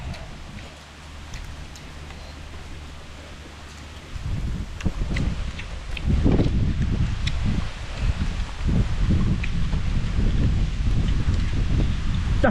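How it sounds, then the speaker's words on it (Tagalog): Strong wind gusts through leaves at an outdoor cooking spot on a farm field where chicken is being grilled, a steady rushing roar that swells louder after the first few seconds and stays up, with brief voices faintly underneath. "Grabe ng hangin."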